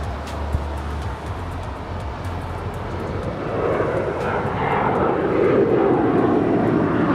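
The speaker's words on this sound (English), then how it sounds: "As we are keeping an eye on that Delta A330-300. We'll be departing here, Los Angeles, here soon." A Delta Airbus A330-300 jet airliner at Los Angeles airport, its engines a broad roaring rumble with a low drone that swells louder toward the end, heard from a distance without talking.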